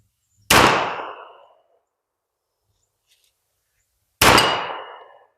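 Two sharp, loud pistol shots from a WWII-era handgun fired one-handed at a target, several seconds apart, each ringing out with a short decaying echo outdoors.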